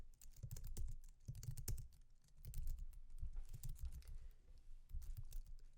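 Someone types a terminal command on a computer keyboard in quick bursts of close key clatter, with short pauses between runs of keystrokes.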